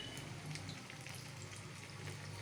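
Oil bubbles and crackles softly as battered cauliflower pakoda fries, a steady faint sizzle with occasional light pops and no voices.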